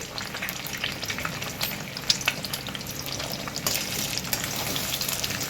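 Beaten egg frying in a hot pan for a quick egg rice, a steady close sizzle with scraping and stirring throughout and no voices.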